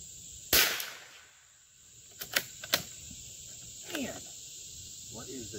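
A Howa M1100 .22 LR rifle fires Eley Target rounds at a center target outdoors, with five sharp cracks: one louder shot, then a quick cluster of three and a final one, over steady insect chirring.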